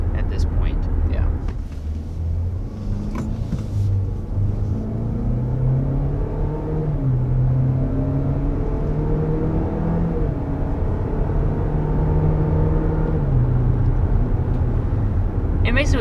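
A 2022 GMC Terrain with its 1.5-liter turbo engine drives along, a continuous low engine and road rumble with rising and falling drone as it accelerates, with people talking over it.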